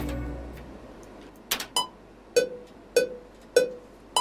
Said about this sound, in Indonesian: Jangan lupa aktifkan metronomnya dengan menekan tombol C di keyboard.